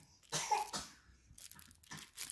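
A child coughs a few times in quick, soft bursts, fairly quiet and close, with brief gaps between the coughs.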